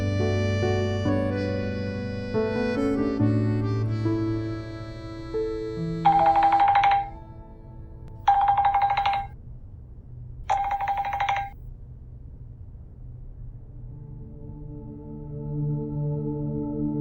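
A telephone in a home rings three times in an even electronic pattern, each ring about a second long and clear and loud, after a stretch of soft background music.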